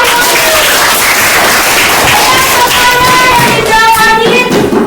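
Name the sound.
class clapping hands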